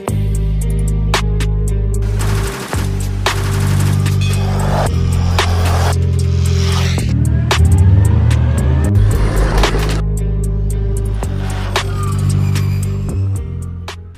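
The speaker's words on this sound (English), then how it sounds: "It's gonna be the first run for my Arrma Granite 3S 110 scale brushless four-wheel drive monster truck" An Arrma Granite 3S 1/10-scale brushless four-wheel-drive RC monster truck drives outdoors, its electric motor whining steadily and rising and falling in pitch as it accelerates and slows, loud and close throughout.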